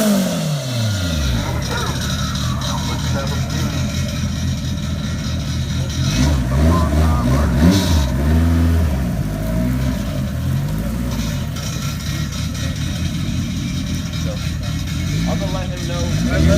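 A 600hp front-wheel-drive Honda race car warms up at the track, its engine revving hard with rising and falling sweeps, loud and close throughout, with a voice talking over it.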